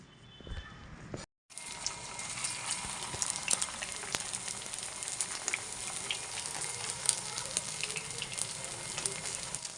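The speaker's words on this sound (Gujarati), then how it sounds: "આ છે સેલો ફ્રાય અને આ છે ડીપ ફ્રાય" Potato patties for ragda patties frying in hot oil, some shallow fried and some deep fried, giving a dense, steady sizzle with crackling pops. The frying is loud and continuous after a brief silent break near the start.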